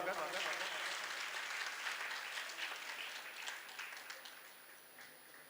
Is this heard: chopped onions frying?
no